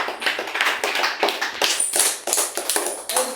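Students in a tuition class clap their hands together, a steady run of sharp, close claps with brief uneven pauses, loud and without talk.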